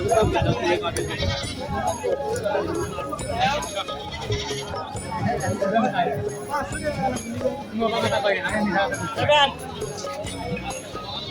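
Black Bengal goats bleat repeatedly at a busy rural goat market, their cries overlapping near and far amid a babble of traders' voices and close conversation.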